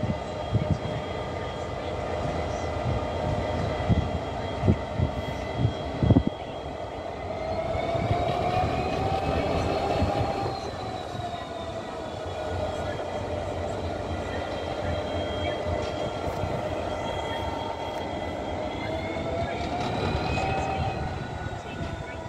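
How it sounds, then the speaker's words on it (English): Class 59 diesel locomotive 59003 in Colas Rail livery arriving at Westbury yard on a freight working, a loud, steady engine drone with rising and falling tonal whines and rail rumble that builds as it draws near. "Train back coming now."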